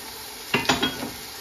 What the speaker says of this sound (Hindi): अब इसमें मैं शामिल करती हूँ ये जिंजर गार्लिक पेस्ट और टमाटर के